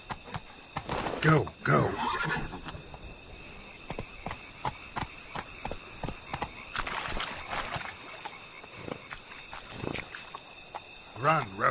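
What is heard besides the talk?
horse Roach galloping in The Witcher video game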